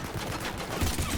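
Gunfire in the Mass Effect 3 video game, a dense continuous burst of rapid shots rumbling through the whole moment during a combat scene, loud and close with no talk over it.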